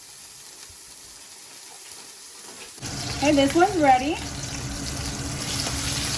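A stuffed hamburger patty sizzles and fries loudly in a hot skillet, the crackle starting abruptly and continuing steadily, with a person talking over it.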